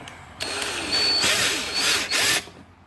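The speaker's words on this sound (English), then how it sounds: "So we're going to drill those out." A power drill bores out plastic pop rivets on a 2010 Chevrolet Silverado interior door panel, giving two or three short whining bursts close by that rise and cut off, with no talk.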